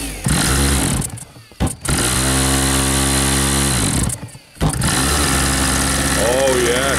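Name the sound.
nitro engine of RC Cessna 177 model plane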